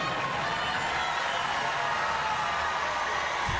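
A packed basketball arena crowd at the 2024 NCAA women's Sweet 16 game, LSU versus UCLA, roars and applauds in a dense, unbroken wash of noise that holds loud and steady throughout.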